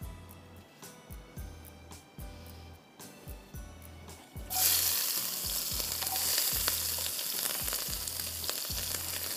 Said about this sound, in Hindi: इटालिया का पामेस ऑलिव ऑयल ले लिया है, इसमें मैं प्याज डाल रही हूँ, शिमला मिर्च डाल रही हूँ, रेड पेपर डाल रही हूँ